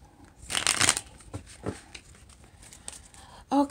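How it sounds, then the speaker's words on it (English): Crisp riffling bursts of tarot cards being shuffled, a loud flurry early on, a couple of shorter riffles after, then a brief voice at the end. "Let me get you one more shuffle."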